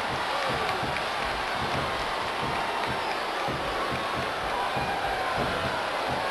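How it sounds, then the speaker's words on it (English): A dense, continuous roar of a large wrestling-arena crowd in a video game fills the background, steady and loud, with scattered thuds beneath it. "Sounds like this crowd's got something on their minds"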